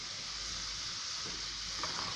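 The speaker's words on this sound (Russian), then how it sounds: "Помешиваем, оно как бы жарится." Close, steady sizzling of homemade french fries frying in hot oil, with faint stirring movements near the end.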